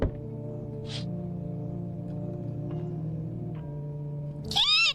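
Eerie, quiet low ambient drone from the horror video game No, I'm Not a Human, ending in a single loud, wavering cat meow near the end.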